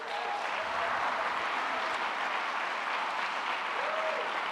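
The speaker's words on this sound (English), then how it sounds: "Softball teams here. Give them a big round of applause." An audience in a university address hall gives a steady, sustained round of applause for the softball team, a dense even wash of clapping with faint crowd noise.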